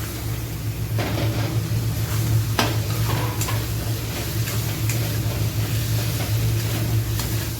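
Potatoes being sautéed in a spice masala in a pan for aloo dum, a continuous close sizzle with occasional scrapes and clinks of a utensil stirring, under a steady low hum.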